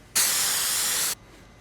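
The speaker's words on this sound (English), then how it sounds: "you get a rag and some brake clean and thoroughly clean your guide pins" Brake cleaner sprayed onto disc brake caliper guide pins: a single close, loud hiss lasting about a second that starts and stops abruptly, with quiet before and after.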